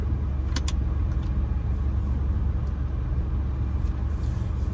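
A car rolls slowly at about 6–7 mph along a tree-lined residential street in Richmond, Virginia, with a low steady engine and road rumble close by and a couple of faint brief ticks, no talking.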